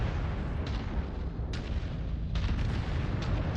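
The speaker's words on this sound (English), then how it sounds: "The PPC is definitely shooting. Medium lasers definitely shot." Mech weapons in MechWarrior 5, including a PPC and medium lasers, firing in several bursts over dense, continuous battle noise and low rumble.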